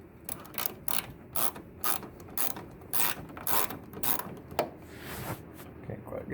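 A 10 millimeter ratchet wrench works on a Cadillac SRX headlight, giving repeated soft clicking strokes in an irregular rhythm, fairly faint and close, over a low background hum with some people talking.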